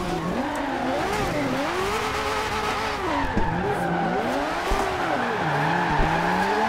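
A Ferrari One-77 with a twin-turbo V12 skids and squeals its tires in the Forza Horizon 2 racing game, the engine note rising and falling in sweeping waves under continuous loud tire scrub.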